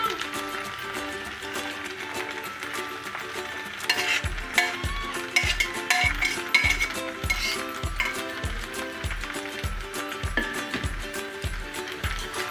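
A spoon scrapes and thuds in a steady rhythm as fried okra is gently stirred into cooked meat in a pot. The stirring grows more pronounced partway through, over a quiet background.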